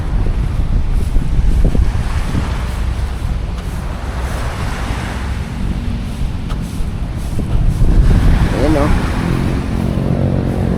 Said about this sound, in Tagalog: hampas ng alon